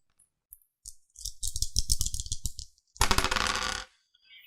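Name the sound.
dice rolled in a tabletop board game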